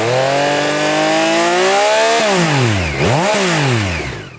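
A stock-exhaust 890cc inline-triple retro motorcycle revs loud and close, rising smoothly in pitch, dropping, then blipping up and down again in quick throttle stabs.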